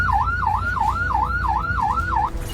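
An ambulance siren stuck in city traffic wails in a fast, regular up-and-down sweep, loud and close, about seven cycles before it cuts off, with road noise rumbling underneath.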